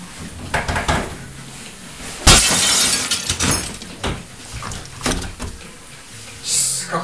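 A glass pane taped to the outside of a door is smashed with an elbow, giving one loud shattering crash midway with scattered clinks and knocks around it.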